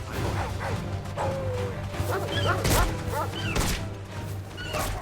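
Dogs barking, yelping and whimpering during a fight in the video game Final Fantasy 16, with sharp yips and impact thwacks over a dense, loud battle soundtrack.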